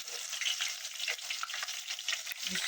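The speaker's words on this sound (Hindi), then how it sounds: "अब इसमें हम 2 चम्मच अदरक लहसुन के डालेंगे।" Ginger garlic paste fries in hot oil with a bright, crackling sizzle that stays steady and fairly close for a few seconds, with no one talking.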